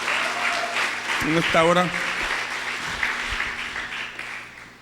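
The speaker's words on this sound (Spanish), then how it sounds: "Vamos a darle un aplauso fuerte al Señor" A church congregation claps and applauds steadily throughout, a broad wash of clapping, while a preacher's voice speaks briefly over it.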